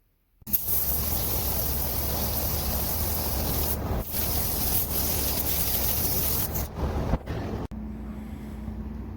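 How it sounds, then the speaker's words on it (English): Scotch-Brite and folded 320-grit sandpaper rub over a primed quarter-glass window frame from a Foxbody Mustang, making a loud, continuous close scratching hiss with brief pauses between passes. "I went ahead and grabbed some Scotch-Brite and a piece of 320 sandpaper and folded it in half"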